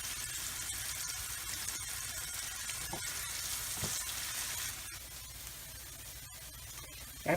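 Onions sweating with a pinch of salt in a pan give off a steady, soft broadband sizzle with faint crackles, unbroken by speech, and one brief knock near the end.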